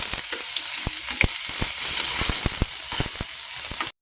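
Garlic, onion and ginger sautéing in a hot pan: continuous bright frying sizzle with a steady hiss, broken by sharp clicks and taps from a utensil stirring, close and loud with no talking.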